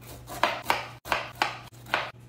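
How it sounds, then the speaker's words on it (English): A knife chops through fresh pineapple on a cutting board in five or six crisp, evenly spaced strokes, each a sharp thud, close and loud with no talk over them. "Next, I'm gonna cut up 2 pineapples."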